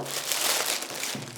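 Plastic packaging crinkles and rustles in hands during an unboxing of a desktop overhead camera arm, a close, continuous crackling with small crunches and no talk.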